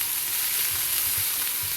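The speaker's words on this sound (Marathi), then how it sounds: "मी थोडंसं तेल घालते, 2 चमचे. मी कांद्याची पात ॲड करते." Spring onion greens sautéing in about two spoons of hot oil give a steady, close sizzle and frying hiss, with faint stirring bumps underneath and no talking.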